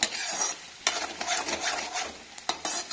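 Masala roasting in a pan for matar paneer, a close sizzling fry broken by repeated scraping stirs of a spatula against the pan, in short bursts with no voices.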